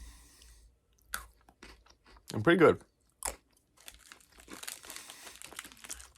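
Pocky biscuit sticks are crunched and chewed up close, with snappy bites and wet chewing scattered in bursts while a person speaks briefly between mouthfuls.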